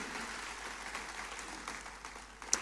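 Audience applause during a church service, faint and distant, a soft continuous patter of clapping with a single sharper clap near the end.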